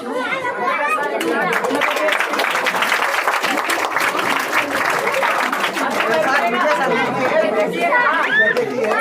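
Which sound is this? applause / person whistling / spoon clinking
applause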